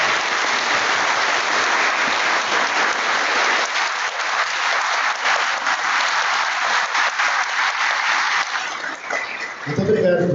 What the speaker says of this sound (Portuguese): acho que é merecido uma salva de palmas e agradecimento